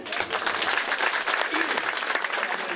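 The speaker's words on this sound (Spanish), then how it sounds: "Y pido para todos ellos" An audience at a tribute event applauds, loud continuous clapping from a full room with a few cheers and voices rising through it.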